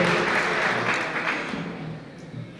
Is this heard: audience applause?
yes